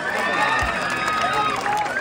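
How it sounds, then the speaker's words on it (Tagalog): An audience applauds and cheers at a beauty pageant, a loud dense wash of clapping with voices mixed in, heard close and continuous. "Wala po bang palakpakan dyan?"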